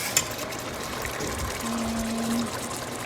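Canned fish is rinsed under running water, producing a quiet, steady trickling pour lasting a few seconds.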